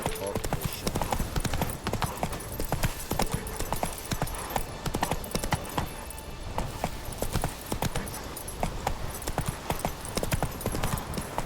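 Horse hooves in Witcher 3 clip-clopping in a steady, fast rhythm, close and loud throughout, with a faint whinny and a little background voice.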